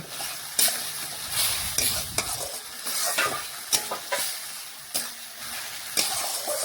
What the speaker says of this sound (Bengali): লাল লঙ্কার গুঁড়ো এটাও ভালোভাবে নাড়াচাড়া করে মিশিয়ে মশলা একটু ভেজে নিয়েছি